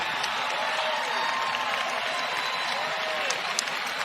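A large crowd of Husky supporters applauds steadily at a UConn women's basketball game against Georgetown, a dense, continuous wash of clapping and crowd noise with a few sharper accents, heard from a distance throughout.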